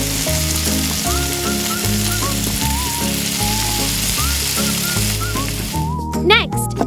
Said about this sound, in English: When the oil is hot, add the meat. Fry for 5 minutes.